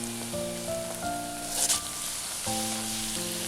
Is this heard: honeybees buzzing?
no